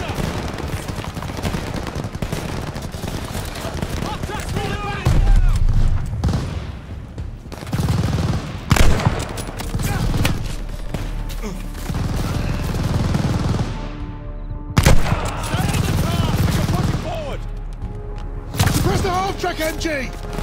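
A half-track's machine gun fires in the Call of Duty: Vanguard war game during Operation Tonga. Loud bursts of automatic fire come in repeated volleys, mixed with heavy thuds and battlefield chaos, with shouting voices over the noise.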